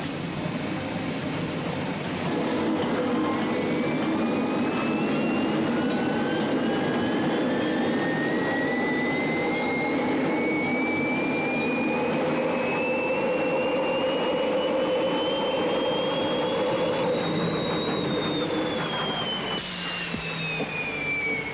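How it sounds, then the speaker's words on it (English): A rocket engine fitted to a race car gives a sustained, loud roaring thrust with a whining tone that slowly climbs in pitch, steady and unbroken with no voices. "that rocket has enough thrust to double our speed in the straightaway"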